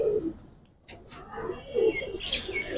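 Giribaz pigeons coo in soft low bursts close by, with a few brief higher chirps and rustles near the end and no one speaking.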